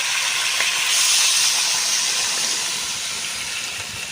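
Water poured into a pan of sizzling mutton and green pea ghugni, a loud steady hiss of steam and bubbling that swells then slowly eases, with no talking.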